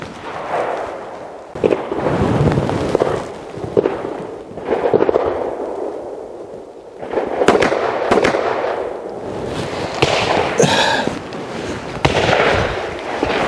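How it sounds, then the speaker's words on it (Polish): Sharp pistol reports from a CZ handgun fired at a target outdoors, a few distinct cracks standing out against heavy, continuous rushing background noise. "Łącznie padło 8 strzałów."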